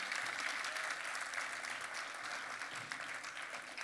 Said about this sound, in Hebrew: מגיעות לכם הרבה כפיים על הגעתכם לקו הסיום